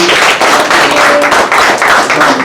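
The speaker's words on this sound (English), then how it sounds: "So give her a round of applause." An audience at a community gathering gives a loud, close round of applause for a division's lady president, dense and continuous with slight surges.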